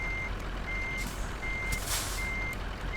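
Reversing beeps from a Scania truck in Euro Truck Simulator 2, a steady series of evenly spaced high electronic beeps repeating over a constant engine rumble, with a brief hiss partway through.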